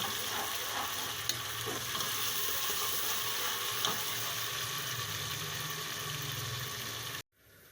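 Peeled tomato paste sizzles and fries steadily in a pan with garlic, a constant close crackling hiss with occasional stirring scrapes, cutting off sharply at the end.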